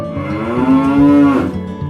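A single cow gives a long, loud, close moo that swells and fades, standing alone with nothing else around it.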